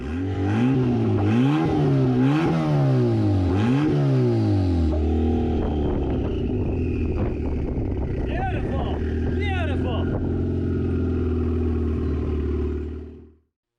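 A V10-swapped Subaru Impreza engine revs loudly in rising and falling pulses, then settles into a steady, throaty idle that continues close by until it cuts off at the end.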